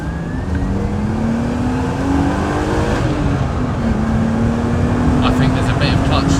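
A supercharged BMW E39 530i budget track car with an ESS supercharger kit pulls hard, its engine a loud, dense drone rising in pitch with a brief gearchange dip, heard from inside the car.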